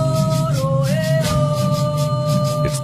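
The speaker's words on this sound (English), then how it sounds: "if you speed up 40 days recording into a few seconds, this is what you get." A NASA Solar Dynamics Observatory recording of the Sun, forty days sped up into seconds, forms a dense, steady drone with shifting whistling tones that glide and bend, loud and continuous throughout.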